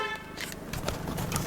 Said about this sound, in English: horn works, yeah, they're working, controls are working